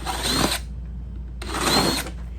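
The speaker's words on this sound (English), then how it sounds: "I'm gonna drill a hole in the top" A power drill bores a hole in the top of a yard project in two loud bursts, each about half a second long with a pause between, its high whir running over a steady low hum.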